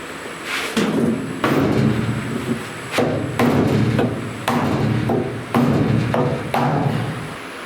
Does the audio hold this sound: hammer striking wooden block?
yes